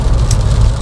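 Rain falls on a 2025 Porsche 911 GTS, heard from inside the cabin as a dense, steady patter and wash over a low rumble. It is loud and close and lasts under a second.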